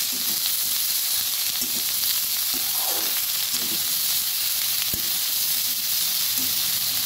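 Cauliflower, potato and spring onion fry together in a pan with a dense, even hiss of sizzling oil, broken by a few soft stirring scrapes and taps.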